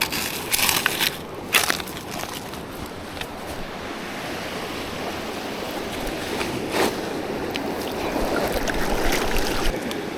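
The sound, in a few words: gold pan swirling black sand and water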